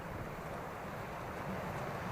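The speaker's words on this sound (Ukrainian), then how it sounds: "Ось така краса, море штормить, пірс заливає." A stormy winter sea washes over a pier at Odesa, a continuous, fairly faint roar of surf mixed with wind buffeting the microphone, with no voices.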